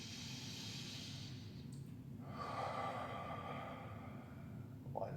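A person draws a deep breath in during a gentle full-body stretching routine, a long soft airy inhale and release, close and quiet over faint background hum.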